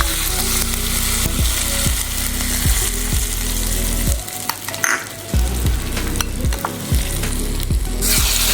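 A hot tempering of mustard, cumin, red chillies and curry leaves poured into ladies finger chutney, a loud steady sizzle with repeated rhythmic scraping strokes as it is stirred, dipping briefly midway.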